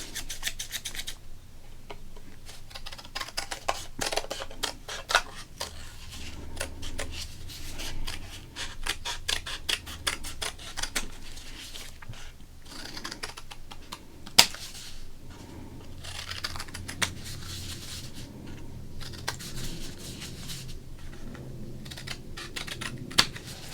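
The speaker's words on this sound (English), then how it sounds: "I think I should definitely cut up Paul Savella." Scissors snipping up a baseball card in a quiet close-up ASMR setting: a long stream of small crisp cuts and papery rustles, with occasional sharper snaps and no voices.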